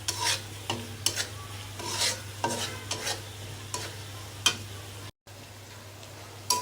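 Assorted spices frying in hot oil in a cooking pan, stirred in repeated scraping strokes over a steady sizzle, close and fairly quiet, with no talking.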